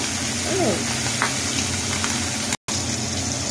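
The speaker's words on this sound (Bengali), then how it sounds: "মাছগুলো আমি মুচমুচে করে ভেজে নেবো।" Steady crackling sizzle of Bhola fish frying in hot oil, continuous and close, with a brief dropout near the end.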